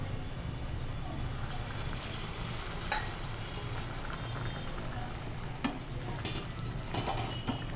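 Hot water poured into a pot of curry cooking on the stove, giving a steady sizzling, bubbling hiss with faint stirring and a few light clinks of utensils, close and continuous.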